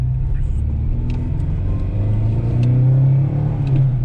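A Volkswagen Saveiro Summer pickup engine rumbles and revs up, a deep steady drone that swells toward the end, heard close and loud without talk over it.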